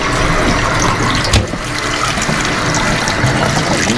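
Hot water running from a tap onto a tie-dyed tee during rinsing, a steady broadband rush filling the whole clip, loud and close, with a brief splash near the middle.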